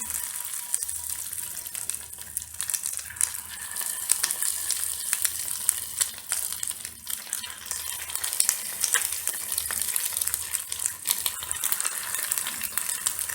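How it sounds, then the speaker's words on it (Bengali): Chicken slices frying in hot oil, a steady close crackling sizzle with bright spitting that carries on throughout, with no talking. "এবার একটা একটা করে চিকেন স্লাইসগুলো তেলে দিয়ে দেব।"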